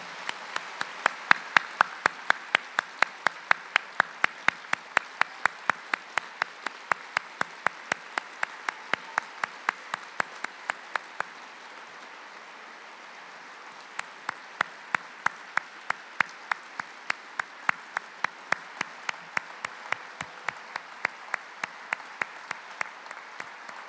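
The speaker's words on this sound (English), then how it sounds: "Everyone, please give Eva a big round of applause." Audience applause for Eva Schloss, Anne Frank's stepsister, at the close of an evening talk: steady crowd clapping that runs nearly the whole stretch, dips briefly in the middle, then swells again, with no voices over it.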